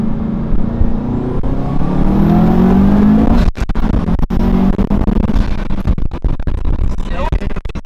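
Built Subaru WRX with an aftermarket intake accelerating on the road, a loud engine drone rising in pitch through the gears, then dropping at a shift, with people talking inside the car over it.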